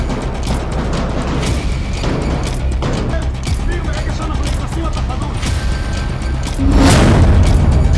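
Heavy gunfire in the Gaza war, a dense barrage of loud booming and crackling shots rolling on without pause, swelling even louder toward the end.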